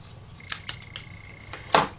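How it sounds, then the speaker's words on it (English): Scissors cut a card stock label in half lengthwise, giving a few short, crisp snips close by, with one stronger cut near the end, in a quiet room. "I'm going to literally cut it in half lengthwise"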